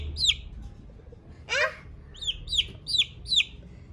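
Small chicks being fed give short, high cheeps, one louder call midway followed by a quick run of four evenly spaced peeps, close by against a quiet room.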